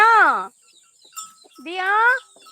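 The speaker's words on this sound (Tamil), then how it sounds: "கருப்படோட குட்டி போனதுலேருந்து ரொம்ப கத்திக்கிட்டே இருக்காங்க" A goat bleats loudly twice, long wavering cries separated by a short pause, close to the listener with faint background sounds between calls.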